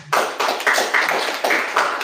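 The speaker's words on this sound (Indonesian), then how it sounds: "Tepuk tangan buat Tuhan" Church congregation clapping for God during a sermon, a loud, steady burst of many hands beginning abruptly and continuing evenly without speech.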